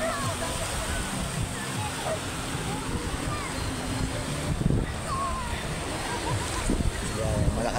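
Ocean waves and a strong water current at a beach during low tide, a continuous loud rushing wash with surges of surf, while people talk over it.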